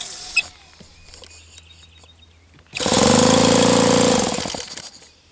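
An OS FS 120S-SP four-stroke model engine being primed, quiet clicks and handling noises giving way to a loud, steady mechanical whirring burst for about two seconds before it tails off.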